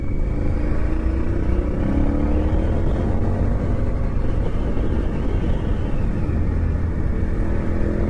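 Loose rattling parts on a motorcycle ridden through curves in the Harz, buried in a loud continuous roar of engine and wind noise that never lets up.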